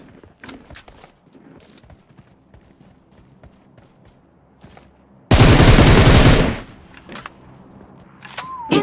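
Rapid automatic gunfire in the mobile battle-royale game PUBG Mobile, on the new Erangel map, erupts as a loud sustained burst of over a second, following quieter game sounds and scattered clicks.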